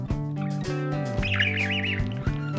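A pet budgie (parakeet) gives a short warbling chirp partway through, heard over steady background music.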